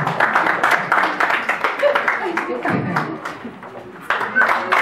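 A women's centre gathering applauds a network president with brisk, uneven clapping from a small crowd, the claps mixed with chatter and voices throughout, thinning briefly before a fresh burst near the end.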